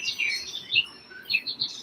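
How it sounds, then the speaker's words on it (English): Birds chirp and tweet outdoors, with several bright, quick calls overlapping in a lively, continuous chatter that stays fairly close and clear. "They can hear the birds inside the apartment."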